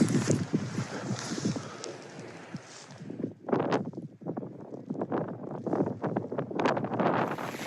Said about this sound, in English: them wind gusts are picking up